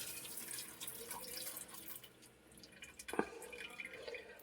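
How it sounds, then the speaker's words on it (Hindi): Water runs and splashes as it is poured into a pot of chickpeas set to boil with salt and tea water, a steady hissing stream with faint drips and a brief clunk partway through. "पानी डालकर इसको रख देते हैं बॉईल होने"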